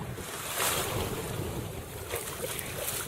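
Sailboat under sail on the ocean off Hawaii, with a continuous wash of water against the hull and gusty wind buffeting the microphone, fairly loud and close throughout.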